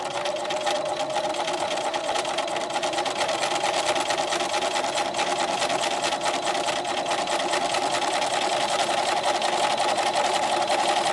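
A sewing machine stitches a seam through fabric and quilt batting while pivoting at a corner. The mechanical whir is loud, close and continuous, with no speech.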